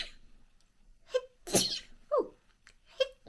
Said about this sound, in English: I'm going to sneeze now